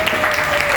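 A class of students applauds in a dense, steady burst of clapping, brief and fairly loud, with no voices over it.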